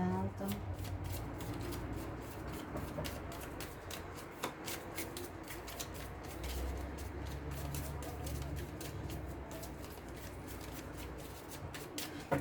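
A Lenormand fortune-telling card deck is shuffled and cut by hand, giving a long run of quick, crisp riffling flicks close to the mic while someone speaks quietly in French throughout.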